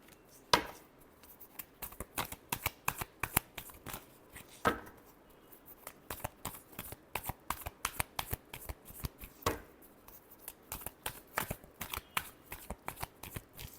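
Tarot cards being shuffled by hand, a steady run of soft riffling flicks and taps close up, with a few sharper snaps and no one speaking.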